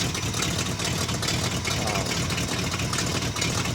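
A 1971 Chevrolet K10 pickup truck engine idles steadily and close by after a cold start, a continuous rough rumble with no change in pace.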